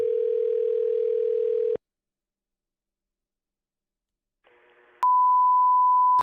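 A telephone call to a coin shop: a steady dial tone for nearly two seconds, silence, a brief burst of dialing tones, then a loud continuous single-pitch ringback tone lasting over a second, with no talk.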